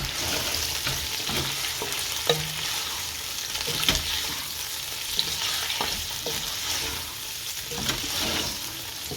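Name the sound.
chicken frying in karahi pan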